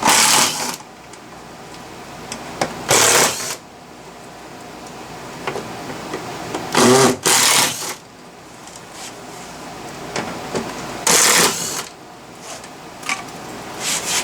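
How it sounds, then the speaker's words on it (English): Phillips screws are driven out of a front door speaker on a 2010 Mazda 3 sedan, with steady close clicking and several loud, whirring bursts of a few seconds each, spaced several seconds apart. "So there are 4 screws, Phillips screws. We're going to go ahead and just take those off."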